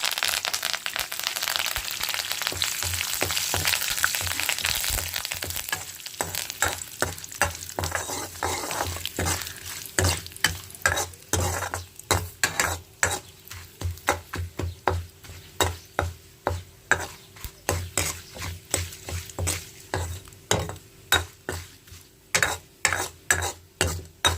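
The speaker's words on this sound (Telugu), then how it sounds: "బాగా అయితే వేగిపోయింది కదా పోపు కూడా మాడతా" Tempering for peanut chutney fries in a pan, an early steady sizzle giving way to a run of sharp, regular stirring scrapes and clinks close by.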